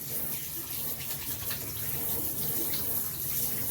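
A kitchen tap runs in a steady, close, rushing stream during fried chicken preparation, with no voices.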